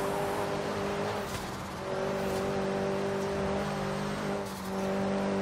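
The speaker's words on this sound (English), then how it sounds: "you can hear just the wind coming from that turbo" A 2003 Ford Focus RS in the racing game Forza Horizon 3 drones steadily, its engine note holding with a soft airy turbo whoosh, briefly dipping around the middle before rising again, with no voices.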